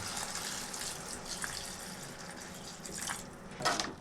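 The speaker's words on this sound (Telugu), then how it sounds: "దీనికి సరిపడా కొంచెం నీళ్లు పోసుకుందామండి." Water is poured into mutton curry in a pot, a steady splashing, running stream that swells near the end, with no one speaking.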